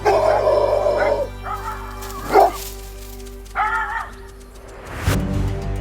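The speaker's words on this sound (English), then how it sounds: "the temporary truce between Jack and his neighbour's dogs is well and truly over" Neighbouring dogs bark and yip in several sharp bursts over a steady low hum. Some of the barks rise into higher whining yelps, and the calls are spaced irregularly at moderate distance.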